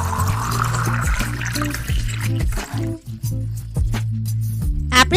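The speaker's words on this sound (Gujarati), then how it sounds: "ચિલ્ડ વોટર એટલે કે ઠંડુ પાણી લઈશું." Chilled water is poured into spiced dough mix for pani puri, a soft splashing pour near the start, with music playing underneath the whole time.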